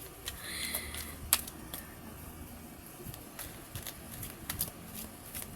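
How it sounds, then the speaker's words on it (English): Large tarot cards being shuffled by hand, giving soft riffling flicks and a few sharper snaps in a quiet indoor room, with no talking. "it's hard to shuffle this big ass cards"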